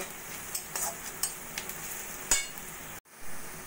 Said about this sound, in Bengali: সবকিছু ভালো করে পেঁয়াজের সঙ্গে মিশিয়ে নেব